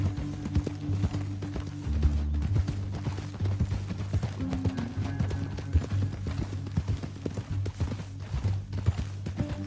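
Rapid clip-clopping horse hooves gallop steadily and loudly in the video game Red Dead Redemption II, a rhythmic pounding that continues throughout with no voices.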